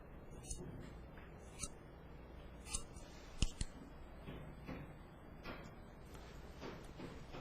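Hair-cutting scissors snip long hair during a salon haircut, giving sharp metallic clicks spaced a second or so apart over a quiet room background.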